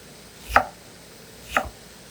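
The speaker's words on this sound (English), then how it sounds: "your knife should go straight down in, and then start working the other way" Two crisp knife chops through onion on a cutting board, evenly spaced about a second apart, close and alone with no talk; ground beef for a cottage pie is nearby.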